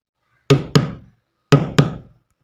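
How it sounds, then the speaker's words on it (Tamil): Knocking on a door, two quick pairs of solid knocks about a second apart, each with a short resonant thud, close and clear with nothing else around them. "கதவு தட்டுற சத்தக்கே"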